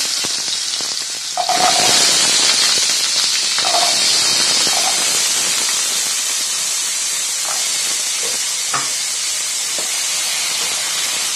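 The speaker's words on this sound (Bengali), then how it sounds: "কড়াতে তেল দিয়েছি, এর মধ্যে দেব আলুগুলো, কুচিয়ে রাখা ডুমো ডুমো করে কুচিয়ে রাখা আলুগুলো।" Diced potatoes hit hot oil in a kadai with a loud burst of hissing sizzle that settles into a steady, close frying crackle, dotted with a few light scrapes and clinks.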